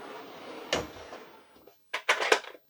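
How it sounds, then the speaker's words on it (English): Cabinet door with a magnetic holder in a 2021 Forest River Sunseeker 3010DS Class C motorhome: a sharp knock, a soft rustle, then a quick cluster of clacks as the door snaps shut, close by. "the cabinet door has a pretty good magnetic holder on it"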